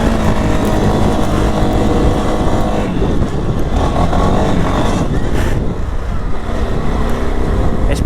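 A 2023 CFMOTO CFORCE 625 ATV in four-wheel drive climbs hills, its engine droning loud and close with rising revs, mixed with wind buffeting the microphone.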